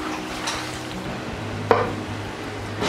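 Steady crackling sizzle of banana fritter batter frying in hot oil, with a brief sharp clink partway through and a low hum underneath.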